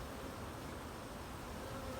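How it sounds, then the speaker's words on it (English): Young honeybees crawling over brood comb in a hive, a soft continuous low buzzing hum with no distinct bursts. "A bunch of young bees walking around."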